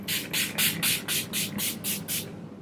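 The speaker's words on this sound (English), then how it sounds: "I'm just going to go in with the Urban Decay All Nighter Makeup Setting Spray" A bottle of Urban Decay All Nighter makeup setting spray is pumped about nine times in quick regular succession, each close, crisp hissing mist burst separated by a brief gap.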